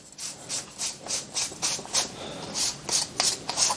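A part being unscrewed off a cheap hot air soldering station during teardown gives a close, steady series of short rasping, scraping strokes in an even rhythm, with no talking.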